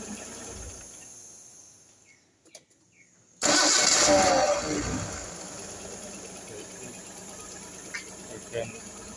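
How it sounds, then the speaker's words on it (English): Rebuilt RB20 engine cranks and fires on a cold morning start, catching abruptly after a quiet pause and settling into a steady loud idle up close, with a voice briefly audible. "morning start after rebuild"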